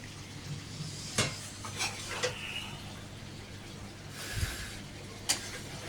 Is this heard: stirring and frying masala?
yes